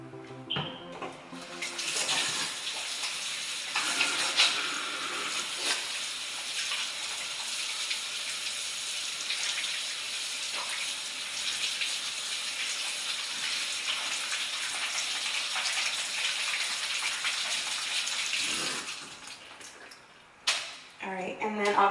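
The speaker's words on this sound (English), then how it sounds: "And you just wanna go ahead and wash your hands." Steady rush of running tap water while hands are washed at a sink during meal prep in a kitchen, continuous and fairly close for about eighteen seconds, with brief handling noises at the start and end.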